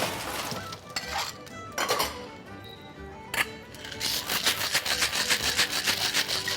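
A cocktail shaken hard in a shaker with ice, made with basil and vodka, starting with scattered knocks and then building into a fast, loud, steady rattle of ice against the tin.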